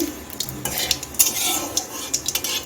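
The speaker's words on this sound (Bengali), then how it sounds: "রাঁধনিটা একটু ভেজে নিচ্ছি" Radhuni seeds fry briefly in hot white oil in a wok, a short burst of sizzling mixed with the scrape and clink of a utensil stirring against the pan, close and fairly quiet.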